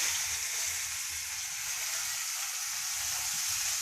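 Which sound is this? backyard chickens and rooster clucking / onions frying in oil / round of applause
onions frying in oil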